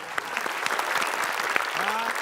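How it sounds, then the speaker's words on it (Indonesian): Audience applause on a studio quiz show, a crisp burst of many hands clapping at close range with a few brief voices mixed in. "Kita tepuk kasih tangan. tepuk tangan."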